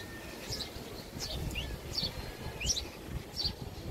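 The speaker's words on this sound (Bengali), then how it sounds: "বুলবুলি চতুর্দিকে ডাকাডাকি করছে" Bulbuls and sparrows calling on a breezy rooftop garden, a handful of short chirps and whistles scattered across the moment, fairly faint and distant over a low rumble of wind.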